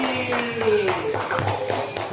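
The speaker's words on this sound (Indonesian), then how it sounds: "tepuk tangan satu kali lagi" A class of students claps in a classroom, a quick run of uneven hand claps with voices mixed in.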